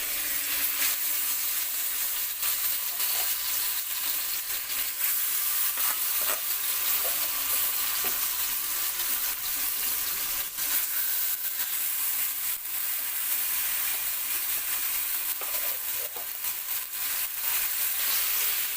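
Boiled taro greens sizzling in a frying pan with cumin, a spatula spreading them out with scattered soft scrapes over a steady hiss, no voices.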